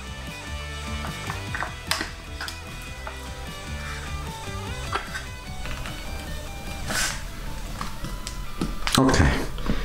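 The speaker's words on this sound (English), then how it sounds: "In my case, I already know I need to screw this a little bit." Front suspension adjuster on a Ninebot ES-series kick scooter being turned with a tool, giving close, repeated ratcheting clicks and small metallic ticks, with someone talking over it.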